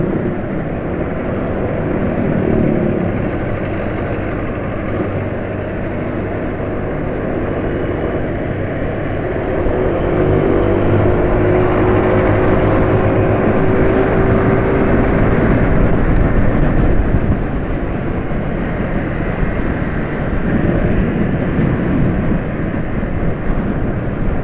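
A Honda motorcycle engine runs rough and sounds muffled, as if unable to reach full power, with a low, steady droning rumble that continues without letup, and no talk over it.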